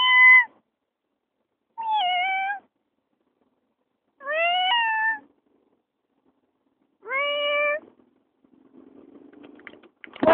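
A cat hiding under a parked car meows four times, clear and fairly close, with pauses between calls, followed by a low rumbling background noise at the end.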